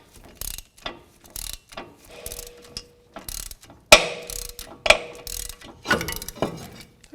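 A hand ratchet clicking in short irregular bursts while tightening bolts on a 2005–2016 Toyota Rav4 front wheel hub, each stroke a crisp burst of pawl clicks, close and fairly loud, with no talk.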